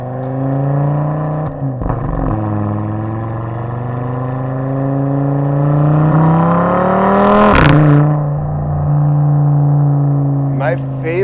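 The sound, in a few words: modified Audi RS3 five-cylinder engine with Grail exhaust revving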